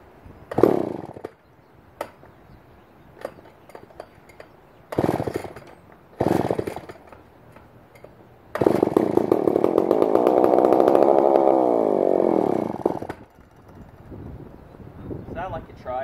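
A McCulloch 550 chainsaw is started for the first time: several short bursts as the engine catches and dies, then it fires and runs loud and close for about four seconds at a rough, revving idle before cutting out.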